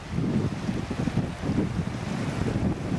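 A river runs beside a motorhome at a quiet wild-camping spot, making a steady, close rushing wash with no break and no voices.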